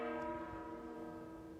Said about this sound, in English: You can hear the sound of the big bell.